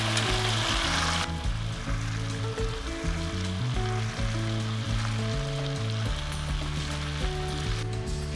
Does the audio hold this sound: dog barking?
no